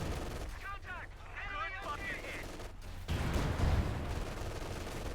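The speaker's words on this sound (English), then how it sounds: "Steward forced the MG away, so the retreat path has been secured." Machine gun fire and other gunshots in Company of Heroes 2, rattling bursts over a dense wartime game backdrop of low rumble and explosions.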